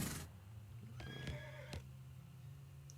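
A horse in the video game West of Loathing lets out a loud neigh and whinny after a sharp opening hit, with clip-clop hoof sounds and a low steady game hum underneath.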